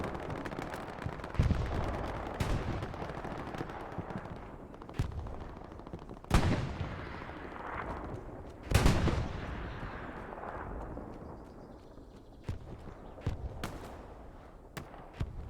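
Machine gun and weapon fire during a competitive online video game match: a dense, rumbling battle din with repeated sharp shots and a few heavy blasts, loud and continuous.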